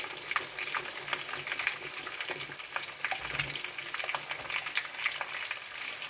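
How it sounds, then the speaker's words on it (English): Chicken stew with freshly added meat stock is stirred in a pot, giving a steady bubbling sizzle with scattered soft scrapes and clicks throughout, close and moderately loud. "We have a little bit of meat stock, and we are going to add it. We are going to stir together."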